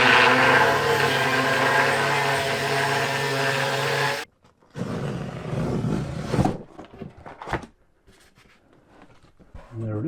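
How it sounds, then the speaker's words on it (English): An angle grinder cuts metal brackets off beneath a Vauxhall Vivaro van seat, a loud steady whining roar for about four seconds. It cuts out abruptly, followed by quieter clattering and scraping handling noises. "I'm just going to grind these off, one on either side at the back"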